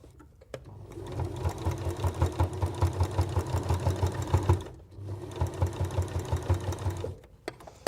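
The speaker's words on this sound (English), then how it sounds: "If your machine really doesn't want to do it, stop." A sewing machine stitches through layers of fabric and wadding for old oven gloves, producing rapid rhythmic thumping runs, close and moderately loud, pausing briefly in the middle before resuming.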